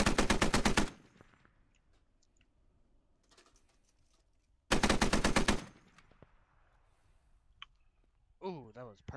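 Two long bursts of machine gun suppressing fire in the Squad video game, each lasting under a second and loud, with quieter distant shots and clicks between them and a short warbling sound at the end.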